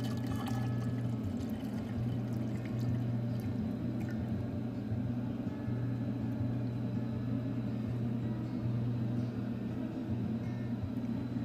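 Melted citronella candle wax is poured into a shell in a steady, continuous pour, with a low constant hum underneath and no talking.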